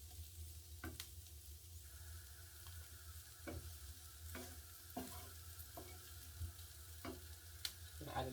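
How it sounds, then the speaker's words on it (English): Garlic frying in oil in a pan while beef olives are prepared, a faint low sizzle under quiet scrapes and taps from stirring, spaced every second or so, with no talking. "So let's let that garlic cook up a little bit more first."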